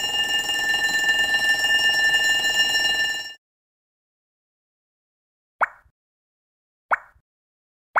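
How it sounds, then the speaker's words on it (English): Fire alarm ringing loudly and steadily as a harsh tonal buzz for about three seconds, then cutting off abruptly, followed by silence broken by two short sharp clicks or knocks. "Fire alarm."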